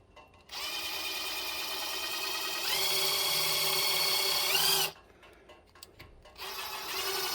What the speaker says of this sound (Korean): 이 피스를 이용해서 구멍을 뚫어 봅시다